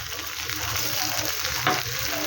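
A semolina dish fries in a pan with a dense, steady sizzle, while a spoon stirs it gently with soft scraping strokes. The sound is close and continuous.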